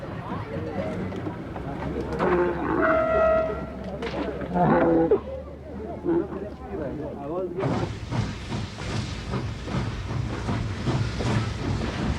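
A special train crossing the Tian Shan Mountains on the Silk Road railway runs with a steady broadband rolling roar, loud and continuous in the latter half, after a stretch where a voice talks over a low rumble.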